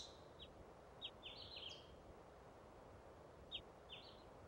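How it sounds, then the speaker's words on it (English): Ambient bird chirps in the Final Fantasy 8 video game, faint high tweets scattered in small clusters over a soft steady background hiss. "I like the little bird sounds in the background."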